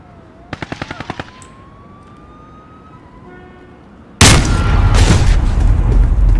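Gunfire in the shooter Call of Duty MW opens with a quick, close burst of about six sharp shots. A few seconds later a loud, dense roar of continuous fire and blasts erupts and keeps going.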